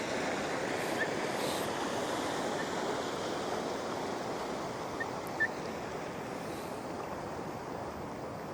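Waves and meeting currents crash steadily at Pismo Beach where a river meets the ocean, a continuous broad roar of surf that stays loud and even throughout with no voices.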